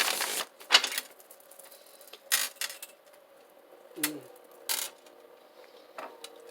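Tarot cards are shuffled in short bursts of papery riffling and slapping, several separate flicks spaced over a few seconds, close and fairly quiet.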